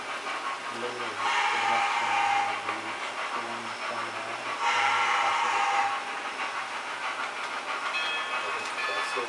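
A train rumbles past a station with a steady mechanical drone and hissing, swelling twice in loudness before settling, heard at moderate distance without voices.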